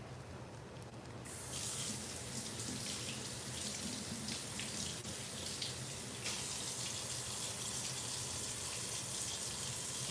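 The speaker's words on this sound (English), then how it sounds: "now I need to wash these gloves" A kitchen faucet runs at a sink to rinse off gloves. The water starts after a moment and then gushes steadily and evenly, close by but fairly quiet, with no talking.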